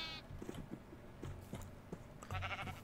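Sheep in the Minecraft mod TerraFirmaCraft bleat repeatedly, several short overlapping baas over a steady game background.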